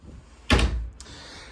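A single non-soft-close wooden drawer in a 2026 Vibe Extreme Lite 2600BH travel trailer slides open with a quick rumbling thud, followed by a softer knock as it settles, in a quiet room.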